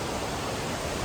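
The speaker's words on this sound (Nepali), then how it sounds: "झरना" Namaste Jharna, a waterfall near Itahari, gives a steady broadband rush of falling water, close and continuous with no pauses and no voices.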